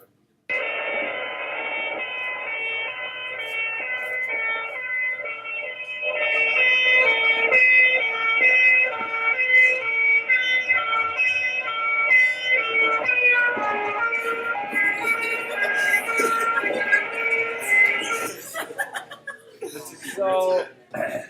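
Two-tone English fire engine siren wailing steadily as the truck passes by, loud and close throughout, with brief chuckling near the end as it fades.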